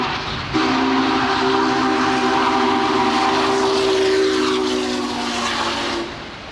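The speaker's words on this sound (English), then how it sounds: "The locomotive was operating magnificently as it charged through Big Springs, Nebraska on the final leg of its journey home." Union Pacific 844, a massive 4-8-4 steam locomotive with 80-inch drive wheels, charges through Big Springs, Nebraska: a loud, steady rumbling roar with a sustained whistle tone running through nearly the whole stretch, no talk.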